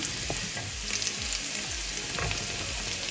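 Chopped onion added to ginger, green chilli and garlic already sautéing in hot oil, giving a loud, dense, continuous sizzle close by with occasional soft stirring scrapes and clinks.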